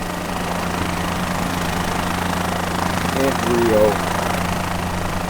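A Bell 407 helicopter flying over Rio de Janeiro during a tour, its steady low rotor and engine drone filling the cabin continuously, with a person speaking over it.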